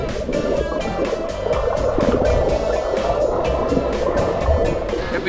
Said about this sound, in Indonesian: Siap-siap pak, ombaknya mau datang.